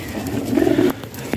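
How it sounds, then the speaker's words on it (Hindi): Pigeons cooing nearby among a group of birds kept for sale, giving a short, soft, rolling coo that lasts about a second over faint background noise. "ये देखे सारे कबूतर इंशाल्लाह होंगे"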